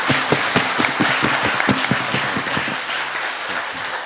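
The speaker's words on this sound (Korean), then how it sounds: "우리 하나님께 영광 박수 올려드리겠습니다" Loud congregational clapping in a church during an evangelism festival worship service, a dense rhythmic beat of many hands in time, easing off near the end.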